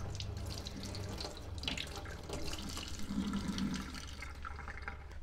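Water streams steadily from a gooseneck kitchen faucet into the sink to rinse the aerator, a close, continuous splashing rush with no voices.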